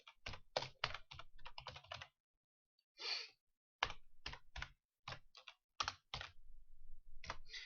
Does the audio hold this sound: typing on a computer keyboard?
yes